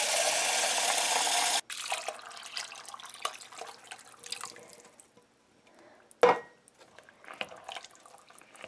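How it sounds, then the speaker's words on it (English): Water running from a tap into a pot of dried beans for chili, a steady pour that cuts off, then scattered drips and small splashes close by. "You want enough water to cover the beans"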